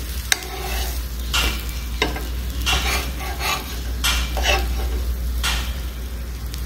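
Butter sizzles steadily in a pan on a gas stove, a continuous close frying hiss broken by regular scraping and stirring strokes, with no talking.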